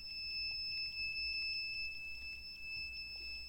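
The buzzer of an ESP32 temperature alert system sounds a steady high-pitched electronic tone that holds unbroken, fairly quiet, over a low background hum with no voices.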